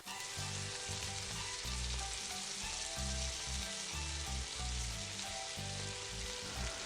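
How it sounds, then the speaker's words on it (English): Minced pork sizzles steadily in a hot pan, a constant loud frying hiss with a spatula stirring and scraping in a rough rhythm to break up the meat. No one speaks. "Then add in the minced pork. Stir well and use the spatula to break the pork"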